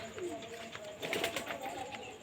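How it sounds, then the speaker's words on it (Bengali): Soft, low cooing of Kaldom pigeons in a loft, faint and repeated, with a light murmur of background activity. "কিছু ছেলের পায়রা আছে দেখাচ্ছি শহীদুল ভাইয়ের লফটে"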